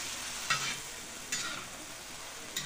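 Shrimp, manta and squid stirred with butter in a pan, a soft continuous sizzle broken by three short scraping stirs, close and quiet.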